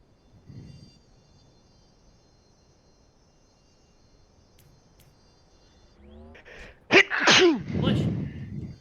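A single sharp human sneeze bursts out close and loud after several seconds of near-quiet room tone, with a brief vocal follow-through right after it.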